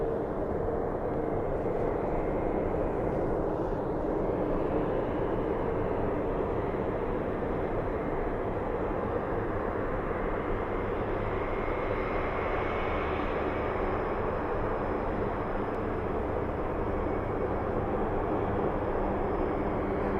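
A KC-135 aircraft at RAF Mildenhall gives a steady, distant jet roar that holds evenly for about twenty seconds, with no voices over it.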